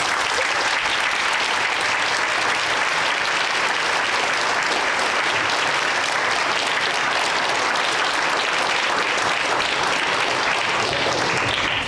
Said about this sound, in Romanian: aplauze din partea voastră a tuturor